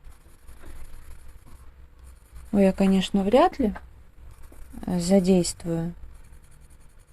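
New coloured pencils scratch lightly on paper in soft, continuous strokes, faint beneath a person talking in two short bursts.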